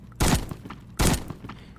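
Two booming shotgun blasts from an M1014 in the Roblox game Mad City, roughly three quarters of a second apart, each a heavy thud with a short tail.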